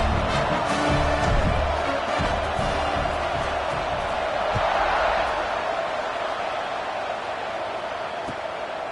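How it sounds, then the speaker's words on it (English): Dense roar of a stadium crowd at a college football kickoff between Ohio State and Indiana, a broad sustained wash of cheering with a swell midway, loud and near, no clear talk. "They're set to kick it off, and this crowd now ready to get behind them."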